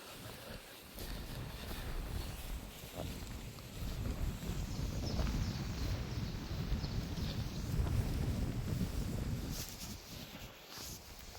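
Strong, brutal wind buffets the microphone in a churchyard, a continuous low roar with gusts swelling and easing across the whole stretch, loud and close.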